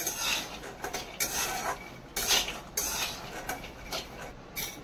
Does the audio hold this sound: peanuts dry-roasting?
yes